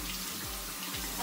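Cold water pours steadily from a bathroom tap into a sink, a continuous close rushing splash with no voices.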